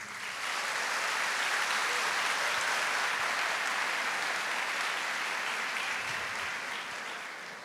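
A church congregation at a Catholic worship gathering led by Frei Gilson claps together. The sustained, dense applause holds steady for several seconds and eases slightly near the end.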